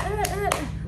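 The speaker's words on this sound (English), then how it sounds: "Oh, clap it up." Two crisp hand claps ring out close by over a held sung or hummed voice and low background hum, in a casual home setting.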